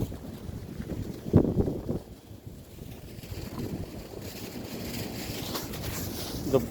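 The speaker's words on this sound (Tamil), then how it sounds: "பொடி காற்றை பாருங்கள்." Dusty wind blows outdoors while food cooks, gusting and buffeting the microphone in loud rushes that ease into a steady roar, with no talking.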